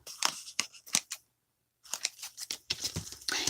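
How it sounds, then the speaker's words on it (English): Scissors trimming loose threads off handmade book pages: a run of quick, close snips, a short silent pause, then another busy burst of snipping and crisp paper rustle. "I need to trim those little hairs off"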